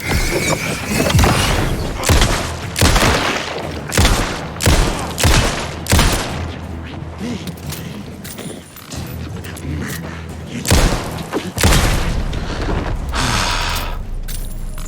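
A run of loud, evenly spaced gunshots in Alan Wake II. Several separate cracks carry through a dark, rumbling game soundscape, then a few more shots come later.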